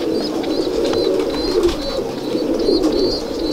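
Soft, continuous pigeon cooing fills the space, low and throaty, with faint higher chirps from other birds in the background.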